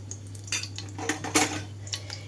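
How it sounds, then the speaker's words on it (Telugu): Fried cauliflower and mushroom pieces are scraped from a pan onto a plate, giving a few soft metal-on-metal clinks and scrapes of a utensil against cookware, close and moderately quiet, with a steady low hum underneath and no talking. "ఆయిల్ రాకుండా ముక్కలన్నీ ఒక ప్లేట్లోకి తీసేసుకుంటున్నాను."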